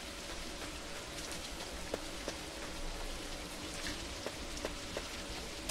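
Rain falling in the horror video game Sonic.exe Assault: a steady, dense hiss of rainfall with occasional sharper drip taps, continuous and fairly faint, with no talk.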